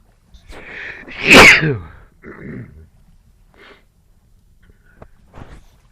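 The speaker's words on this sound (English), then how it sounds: "I feel my YouTube sneezes coming on" A single loud, explosive sneeze rings out near a headset microphone, followed by a few quieter breaths and small sounds in otherwise quiet surroundings.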